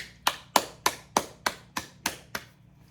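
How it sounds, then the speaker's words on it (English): Eight crisp, evenly spaced hand claps ring out one after another in a quiet room at a community gathering, close and distinct, with no talking. "Let's clap for Eunice."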